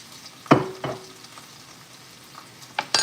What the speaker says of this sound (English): Just to get our vegetables sauteed in this beautiful ingredient here.